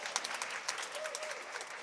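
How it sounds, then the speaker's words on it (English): Steady applause from a crowd, dense clapping sustained throughout at moderate volume, with no voices standing out. "Let's give him a round of applause"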